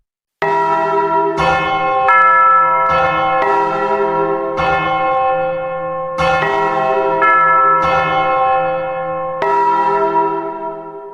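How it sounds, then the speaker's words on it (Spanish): Church bells clang loudly and repeatedly in an uneven, overlapping rhythm, each strike ringing out before the next, with no voices. "el sonido de las campanas volviéndose locas en la iglesia"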